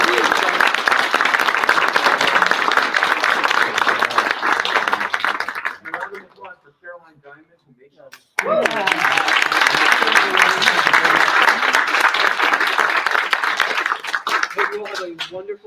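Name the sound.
applause for honor society inductees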